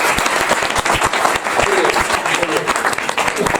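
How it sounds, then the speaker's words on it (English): An audience gives a quick round of applause at a deal analysis session, dense, steady clapping close by that fills the whole stretch with faint voices underneath. "we'll give Raj a quick round of applause."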